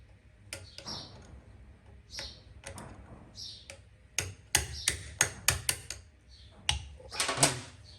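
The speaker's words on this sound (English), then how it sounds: "I really don't like smacking them with a hammer" A hammer taps on GPz motorcycle carburettors: sharp metallic knocks, scattered at first, then a quicker run of about a dozen close, crisp hits, all fairly quiet with no talk.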